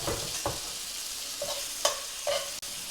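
Trout fillets fry in a pan with a steady close sizzle, broken by several sharp clinks and scrapes of a utensil against the pan; no talking.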